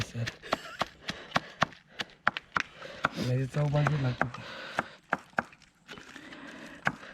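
Repeated sharp grinding knocks of stone on stone as garlic is crushed on a traditional stone grinder, steady and close, with talking in between.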